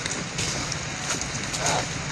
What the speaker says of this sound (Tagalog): lumakas yung ulan no